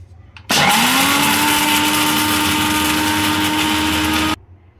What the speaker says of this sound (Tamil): இதை வந்து ஃபஸ்ட்டு தண்ணி சேர்க்காமல் நல்லா அரைச்சி எடுத்துக்கோங்க.